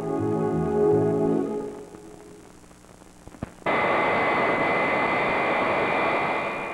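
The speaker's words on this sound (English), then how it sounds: "These sounds of our jet age are familiar ones." Jet aircraft engine noise, a loud, steady broadband roar that switches on abruptly after a quieter stretch of fading tones and holds at full strength to the end.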